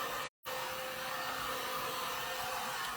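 A craft heat tool blows over an embellishment on a box during a western-style makeover, producing a steady, close whooshing roar like a hair dryer, broken by one brief cutout near the start.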